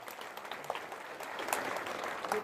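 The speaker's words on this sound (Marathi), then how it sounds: "जोरदार टाळ्या वाजवा" An audience at a political rally bursts into applause, a busy, rising patter of many clapping hands that grows slightly fuller toward the end, with faint crowd murmur.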